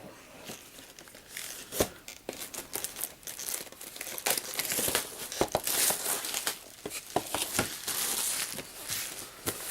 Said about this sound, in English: If I can get the cellophane open.